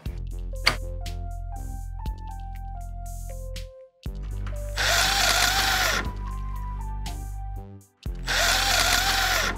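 Power tools and hand tools at work removing a motorcycle's foot peg mount and shifter arm during a chain kit install, with a drill whirring in bursts of rising and falling pitch alongside louder, harsher runs of an impact tool; no talking.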